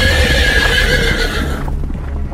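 A horse whinnies loudly while galloping hooves clatter underneath, with a dense, continuous sound that fades out abruptly toward the end as the animal bolts away.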